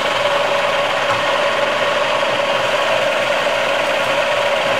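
A milling machine runs steadily while machining the cylinders of a 1973 Honda CB750, with coolant applied, giving a loud, continuous mechanical whir and grinding drone with a strong steady tone and no pauses.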